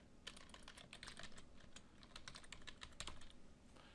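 Fast, uneven keystrokes on a computer keyboard as a name is entered at a Minecraft launcher, a steady close run of clicks with no talking.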